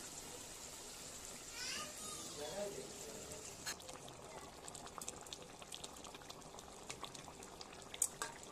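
Water splashes into a hot pan of fried, spiced fish and hisses, settling into a steady bubbling sizzle with scattered sharp crackles.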